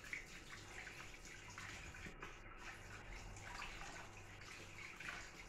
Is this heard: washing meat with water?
yes